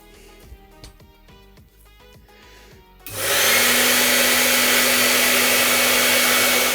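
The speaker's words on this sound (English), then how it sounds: "now I will dry." A hair dryer dries conductive ink on a Kapton tape heater. Quiet handling clicks come first, then the dryer switches on with a loud, steady, close whooshing roar that runs to the end.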